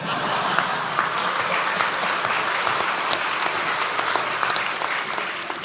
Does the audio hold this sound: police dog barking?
no